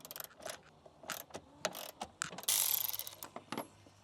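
A 13 mm socket wrench ratchets on a battery box bolt of a Ford F350, giving close, uneven bursts of sharp clicking with a louder metallic rasp in the middle.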